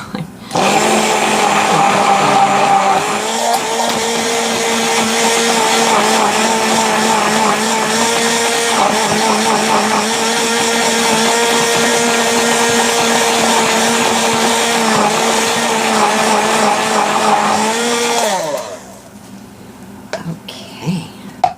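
A stick blender held together with tape buzzes steadily through a batch of soap for about eighteen seconds, loud and close with a slight wavering whine, then cuts off, leaving faint room noise.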